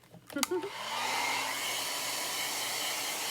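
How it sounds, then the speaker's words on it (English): A hair dryer switches on after a few brief clicks and handling sounds, then blows with a steady, close whooshing roar. "I kind of like this hair dryer better than the embossing tool."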